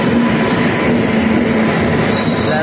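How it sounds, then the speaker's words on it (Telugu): The Dibrugarh Special Express at Secunderabad station gives a loud, steady rolling rumble close by, with faint wheel squeal running through it. "2nd ప్లాట్ఫారంలో ఉన్న ట్రైన్ వచ్చేసి సికింద్రాబాద్ నుండి డిబ్రూగఢ్ వెళ్ళే డిబ్రూగఢ్ స్పెషల్ ఎక్స్ప్రెస్"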